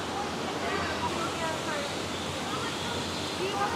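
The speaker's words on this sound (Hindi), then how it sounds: "तो ये यहाँ से ऊपर से पानी आ रहा है, नीचे बह रहा है।" Steady rushing water pours down and splashes continuously in a bird garden in Iran, a broad even roar like a small waterfall, with faint voices in the background.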